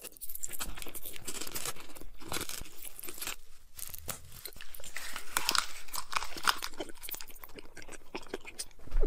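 Loud, close crunching and chewing of giant blue hot sauce Takis rolled tortilla chips, with rapid crisp bites that continue steadily throughout.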